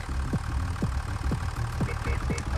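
Tractor engine idling in Farming Simulator 25, a steady low rumble with a repeating periodic chug and faint mechanical ticking, continuous throughout with no talk.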